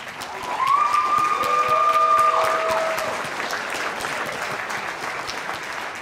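A debate event audience breaks into sustained clapping that swells in the first seconds, holds steady, then gradually thins to a lighter patter, with a faint tonal whine over the top early on.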